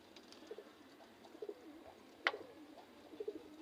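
Pigeons in a pigeon house give soft, scattered coos, faint and intermittent, with one sharper sound in the middle.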